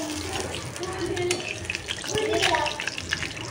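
Catla fish pieces sizzle while frying in a pan, a steady close crackle with occasional sharper spatters and stirring clinks over about three and a half seconds.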